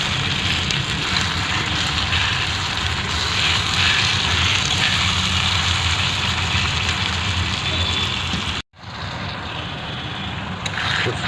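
Green chillies and tomatoes fry in a pan for a chicken dish. A dense, steady sizzle runs throughout, broken by one brief drop to near silence just before the end.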